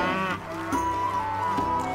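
Cattle in the strategy video game Stronghold HD moo in a long, low, droning call, loud and close, with no talk over it.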